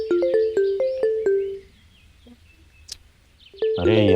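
A phone ringtone plays a quick repeating electronic melody of several bright notes, then stops; after a pause, a voice begins speaking.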